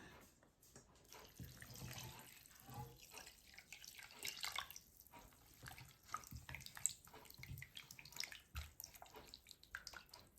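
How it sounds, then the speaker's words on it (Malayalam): Second coconut milk is poured into a Kerala-style prawn curry, a soft, steady trickle and splash of liquid lasting several seconds, faint and close, with no talking. "ഇനി നമുക്ക് ഇതിൽ 2-ാം പാൽ ഒഴിക്കാം."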